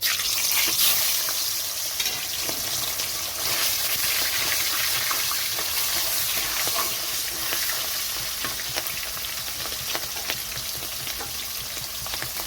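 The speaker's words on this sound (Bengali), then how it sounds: "বড়িটা ভাজা হয়ে গেছে, এখানে দিয়ে দিচ্ছি চিংড়ি মাছ" Prawns fry in hot oil in a pan after fried bori, giving a loud, steady sizzle with stirring scrapes running throughout.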